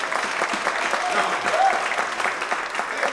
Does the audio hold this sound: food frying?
no